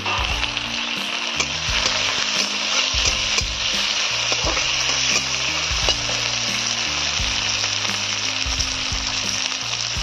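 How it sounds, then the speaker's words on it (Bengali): Small crabs dropped into hot oil and frying for a crab curry, giving a loud continuous sizzle with the occasional clunk of a spoon stirring them around the pan. "কাঁকড়াগুলো এর তেলে ছেড়ে একটু ফ্রাই করার জন্য।"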